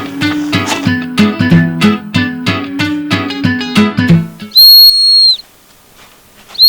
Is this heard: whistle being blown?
yes